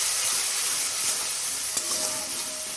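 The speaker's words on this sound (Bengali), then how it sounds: "ভেজে নেওয়া কড়াইতেই আমি পেঁয়াজ ভেজে নিচ্ছি।" Onions frying in a wok with ginger-cumin paste, salt and turmeric, giving a dense, continuous close sizzle with a soft stirring texture and one brief clink near the end.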